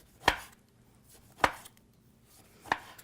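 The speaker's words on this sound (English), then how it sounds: "Slice up an apple. Slice up my little orange." A knife slices through an apple and an orange on a board in three sharp, evenly spaced cuts about a second apart, close and fairly quiet with a soft background hum.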